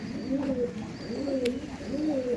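Pigeons from a long-bred pair in a Howrah loft coo in a steady repeating rhythm, three rolling throaty coos close by with a faint chirp, no voices.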